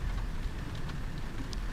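Steady, dense rain hissing around a tornado in the Roblox storm-chasing game Helicity, a constant loud wash with faint rumble beneath and no speech.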